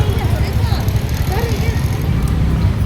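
Busy road traffic at a street of flower stalls during festival shopping, with many vehicles producing a steady close rumble and engine hum, as people talk nearby.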